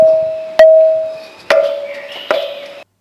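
A carved stone musical pillar struck to mimic a temple bell: three sharp taps, each followed by a clear, sustained ringing tone that slowly fades, close and fairly loud.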